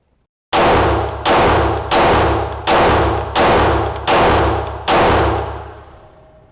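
Seven loud, sharp gunshots ring out at a shooting range in an evenly spaced string, each with a ringing decay, close and with no talk.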